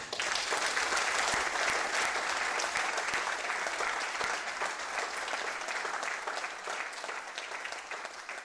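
Sustained applause from a concert audience after an orchestra performance with vocal soloists at a summer night concert, steady and dense throughout before tapering slightly.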